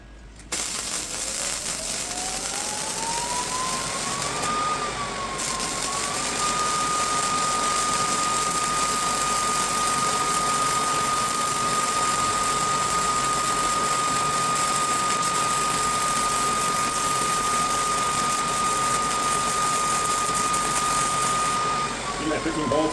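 Low-voltage welding runs along a sheet-metal joint for an outdoor fireplace, a steady close electrical hum and buzz with a held tone that slides up at the start and stays level, lasting nearly the whole time.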